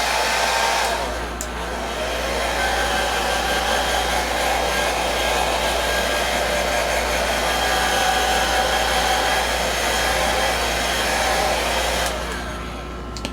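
A hair dryer blows steadily to dry freshly airbrushed paint on a scale model nacelle, a loud, close, continuous whooshing roar switched on near the start and cut off just before the end.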